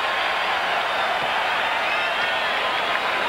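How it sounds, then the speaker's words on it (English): A basketball arena crowd cheers for Dennis Rodman's first point, a steady, broad roar of voices and some clapping that holds at an even level throughout. "Gets his first point and gets a cheer from the crowd."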